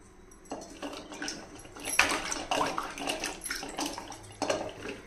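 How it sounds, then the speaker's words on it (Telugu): Fish being rinsed clean under running water in a home kitchen, a steady splashing wash with intermittent louder sloshes and clatters of handling, close and moderately loud, no talking. "శుభ్రంగా కడిగి వేయాలండి."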